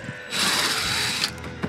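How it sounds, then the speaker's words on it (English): A ratchet wrench unscrews a part on a boat during floor rebuilding, giving a dense burst of rapid clicking that lasts about a second, close and fairly loud, with no talk. "we gotta unscrew"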